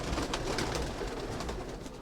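Domestic pigeons kept by a fancier coo steadily and close by, a soft continuous burbling with no talk over it.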